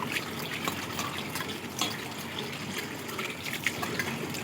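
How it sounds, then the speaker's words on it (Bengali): Water running over a washbasin as it is rinsed after scrubbing, a steady, soft splashing trickle at close range with no voices. "এবার জল দিয়ে ধুয়ে নিচ্ছি"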